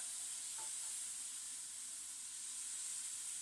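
Waffle batter cooks in a hot waffle iron for manioc (cassava) waffles, giving a steady, soft sizzle and hiss that holds evenly throughout with no talking.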